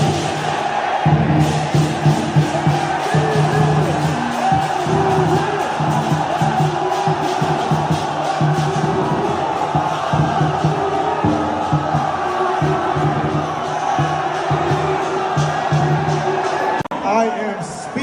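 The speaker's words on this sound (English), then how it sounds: "Take a look at the crowd's reception to James Harden" A large crowd in China cheers and chants for basketball player James Harden, a dense, sustained roar with rhythmic shouting that keeps going until it cuts off near the end.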